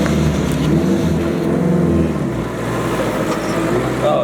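A car fitted with a dogbox transmission drives along, its engine giving a loud, steady, close drone heard from inside the cabin, easing slightly partway through.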